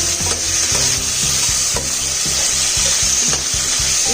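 Chicken gizzard sizzles steadily in a hot pan while being stirred for spicy adobo, with a rhythmic scraping of the utensil repeating through a constant frying hiss, close and loud with no talking.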